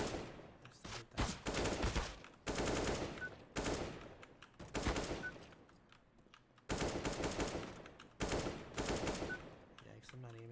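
Gunshots in a shooting game ring out in loud, rapid bursts of automatic fire, several volleys separated by brief quiet gaps, close and sharp.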